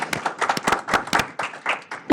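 A startup pitch event audience claps for the next presenter, a sparse scattering of distinct individual hand claps with an uneven rhythm, fairly close, rather than a full ovation.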